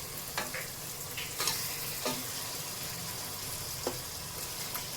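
Chicken pieces with skin cooking among softened tomatoes in a pan for Chennai-style homemade biryani, a quiet steady sizzle broken by a few sharp clinks and scrapes of a spoon, close by, no talking.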